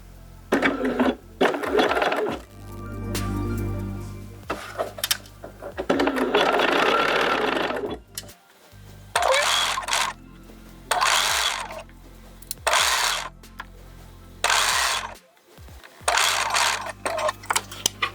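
A sewing machine stitches fabric in repeated bursts of fast mechanical whirring, stopping and starting with short pauses between runs, close and fairly loud, with faint talking at times.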